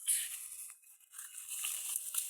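Top of a package being torn open up close, with a few quiet, crinkly ripping and crunching bursts broken by brief pauses.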